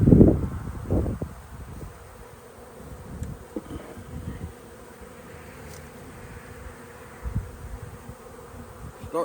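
Honeybees buzz around an open beehive during a hive change, with a low hum in the background, a few louder close passes and some rustling handling noises, and no talking.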